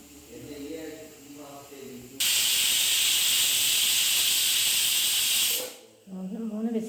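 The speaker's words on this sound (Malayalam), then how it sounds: "ഒരു വിസിലടിച്ച് 2 വിസിലും കൂടി അടുപ്പിച്ചെടുക്കാം." A pressure cooker whistle blows a loud, steady hiss of escaping steam for about three and a half seconds before cutting off, with talking just before and after it.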